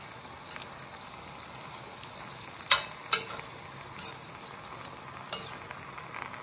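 Korean glass noodles sizzle softly while being stir-fried in a small wok, a steady, quiet frying hiss with two sharp clicks of chopsticks near the middle.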